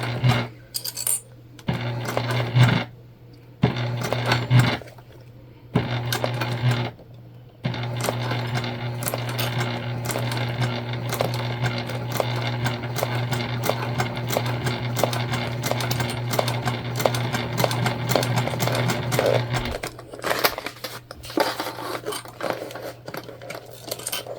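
A sewing machine top stitches a fabric candy bag at an eighth of an inch, its rapid mechanical rattle running steadily and close, stopping briefly several times early on before a long unbroken stretch.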